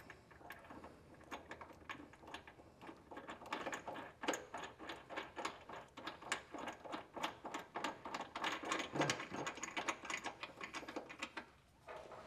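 Ratchet turning a 19mm socket to snug serrated flange nuts on a Curt trailer hitch under a 2023 Lexus UX 250h, a long run of quick, fairly quiet clicks with short pauses between bursts.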